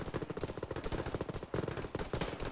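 Rapid machine-gun bursts and overlapping gunshots from a large ShackTac battle in the military video game Arma, dense and continuous with loud sharp reports stacking into a steady fusillade.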